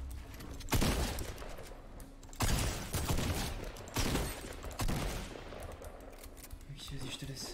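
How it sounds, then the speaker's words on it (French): Loud gunfire bursts in a Fortnite match, roughly four heavy blasts spaced about a second and a half apart, each with a sharp onset and decaying tail, with faint game noise and some talk around them. "J'ai cru entendre un fusil à pompe."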